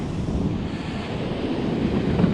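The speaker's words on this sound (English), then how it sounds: "When you face towards the beach, the duck gets pushed by the waves" Ocean surf washing onto a beach where an angler is fishing, a steady broadband roar of waves mixed with wind buffeting the microphone, continuous and fairly loud with no voices.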